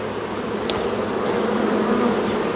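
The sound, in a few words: honeybee swarm buzzing while transferred into nucleus hive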